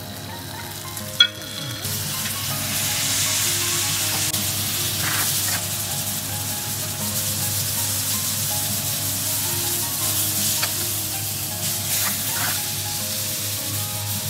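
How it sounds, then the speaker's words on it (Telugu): Chicken frying in melted ghee: a steady, close sizzle with a continuous hiss runs throughout, broken by one sharp clatter near the start and a few soft stirring scrapes, with no talking. "గీ మెల్ట్ అయిపోయిన తర్వాత మనం ఈ చికెన్ అనేది దీనిలో ఫ్రై చేసుకుందాం"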